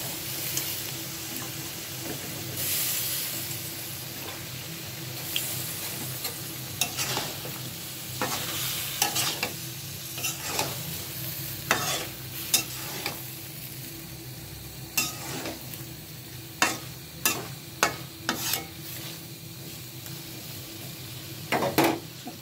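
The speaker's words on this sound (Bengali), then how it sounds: "এখন আমি মাছগুলো দিয়ে দিচ্ছি।" Fish pieces and potatoes fry in a pan, a low steady sizzle under repeated sharp scrapes and clinks of a spatula against the pan that grow more frequent toward the end.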